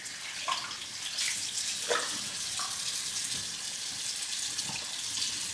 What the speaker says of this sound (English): I'm going to grab another clean towel, wet it